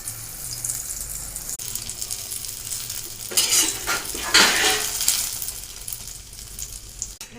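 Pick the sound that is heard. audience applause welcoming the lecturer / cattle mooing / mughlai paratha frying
mughlai paratha frying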